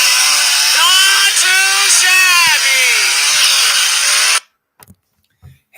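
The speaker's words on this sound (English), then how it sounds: "Here's Dwight cutting wood with a chainsaw." Dwight cutting wood with a chainsaw, a loud continuous engine whine rising and falling in pitch as the blade bites, running steadily for about four seconds before cutting off abruptly into near silence with faint knocks.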